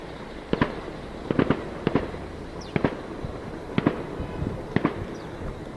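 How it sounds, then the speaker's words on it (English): Several distant gunshots crack out near the Old City of Jerusalem, arriving as sharp reports in small clusters of two or three, spaced over a few seconds against steady outdoor background noise. "There's the gunshots."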